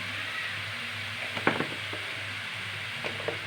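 Gourd-tip curry seasoned with turmeric, salt and cumin powder sizzles steadily in a pan, with a few soft scraping stirs breaking through the low, even frying hiss.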